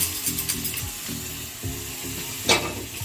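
Boiled peas are tipped into masala frying in a pan for paneer ghugni, with a steady sizzle and scraping stirs close up, including a brighter hiss burst near the end.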